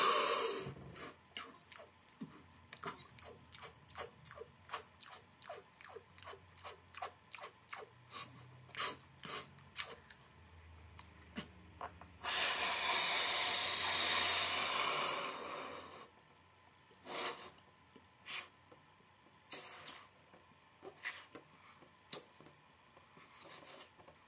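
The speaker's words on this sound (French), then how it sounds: "Et après on respire au maximum," Person doing a lung capacity exercise, breathing deeply with a series of short sharp inhales and puffs, then one long forceful exhale lasting a few seconds, followed by more scattered breaths, close and fairly quiet.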